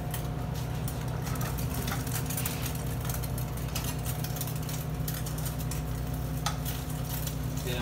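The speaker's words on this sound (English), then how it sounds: "Get a nice sear on your plant-based egg substitute." A plant-based egg substitute searing in a pan gives a steady, dense sizzle over a constant low hum, with faint clinks of utensils now and then and no talking.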